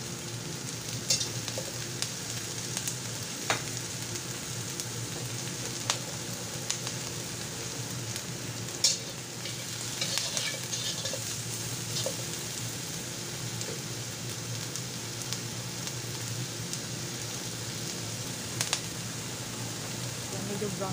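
Garlic and onion sauté in a pan with a soft, continuous sizzle and scattered light crackles, while a voice talks quietly at times.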